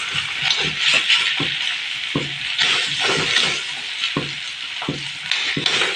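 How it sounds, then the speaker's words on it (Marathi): Corn pieces sauté in a hot pan and are stirred repeatedly, so a constant bright sizzle is broken by rhythmic scraping and clattering strokes, loud and close, with no one talking. "खूप छान असं परतून घ्यायचं"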